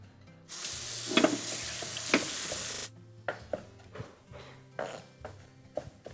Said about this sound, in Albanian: Të cila do t'i skuqim pak.